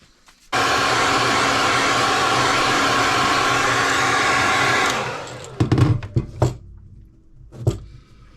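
Heat gun blowing hot air at close range to heat-set paint on a crankbait lure: a steady, loud broadband whoosh for about four seconds that then cuts off, followed by a few short handling knocks.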